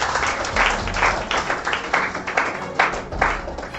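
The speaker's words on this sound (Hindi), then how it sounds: "तो एक बार इनायत के लिए जोरदार ताली होना चाहिए।" An audience claps for a student at a topper interview event, a dense, loud burst of applause that continues steadily throughout.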